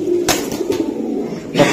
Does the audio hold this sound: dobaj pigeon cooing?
yes